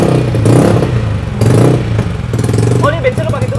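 An N-MAX scooter engine, standard with porting, revving hard in repeated bursts, loud and close, with a voice briefly breaking in near the end.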